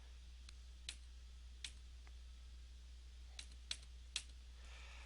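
Computer keyboard keys are pressed during keyboard navigation in Microsoft Word 2007, giving about eight sharp, isolated clicks spread irregularly over five seconds, quiet and close against a low steady hum, with no talking.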